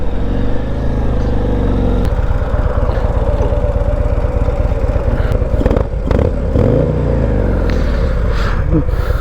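A 2026 Harley-Davidson Street Glide 135 engine rumbles steadily and loud throughout, its low throb rising and easing slightly as it slows to pull over, with a few clattering clicks.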